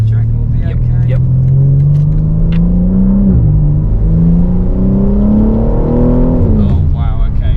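2023 BMW M3 xDrive engine accelerating on a drive in North Wales, a loud close engine note climbing through the revs, dropping with a gear change, then rising again with crackling burbles at the end; people talk over it.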